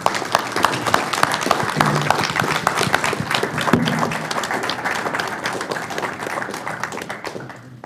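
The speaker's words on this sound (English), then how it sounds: "I think this deserves a round of applause" At a board of commissioners meeting, the audience gives a sustained round of applause, sharp individual claps dense and close throughout before tapering off at the end.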